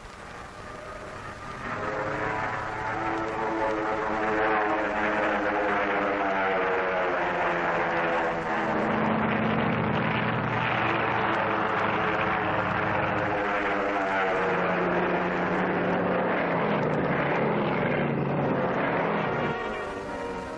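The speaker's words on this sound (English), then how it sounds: "the drone aircraft are launched and temporarily guided from the carrier" Drone aircraft launching from a carrier during Operation Crossroads, a steady loud propeller-engine drone with a buzzing, rising-and-falling harmonic whine that holds for about twenty seconds with no talk.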